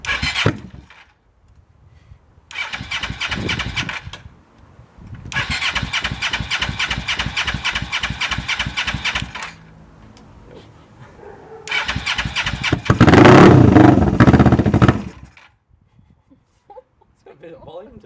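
A Suzuki GS500 motorcycle with its exhaust baffle removed cranks and fires up loudly several times, each burst of raw, harsh engine roar cutting off into quiet gaps, close to the listener.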